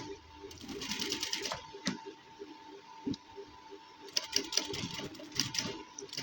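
A sewing machine stitches a gents suit in short bursts of fast rattling clicks with pauses between runs, fairly close and moderately loud, someone speaking quietly in between.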